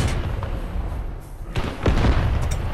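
A tank gun fires in the War Thunder video game, with a few dull thuds and booms over a steady low engine rumble, one heavier hit near the end.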